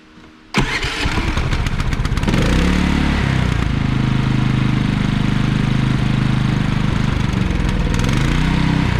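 A Predator 3500 inverter generator, freshly serviced with an oil change, starts with a sudden pull and settles into a steady, loud, close engine drone that holds evenly and smooths out.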